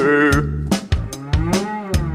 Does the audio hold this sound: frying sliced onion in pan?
no